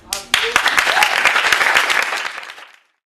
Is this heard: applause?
yes